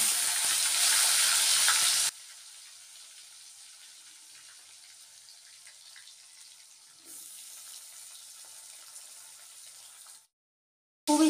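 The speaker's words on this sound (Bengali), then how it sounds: "একটু পটলটা ভাজার দরকার আছে" Pointed gourd (potol) frying in hot oil in a wok with panch phoron, bay leaf and dried chilli: a loud, bright sizzle for two seconds, then a softer steady crackle that swells briefly before cutting out.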